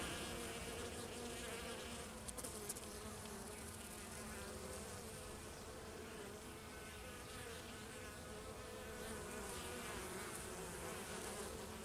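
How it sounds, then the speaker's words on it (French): Dense, continuous buzzing of many honeybees returning to the hive carrying pollen, steady and close, with no voices, around 30 degrees. "il y a des abeilles qui rentrent du pollen"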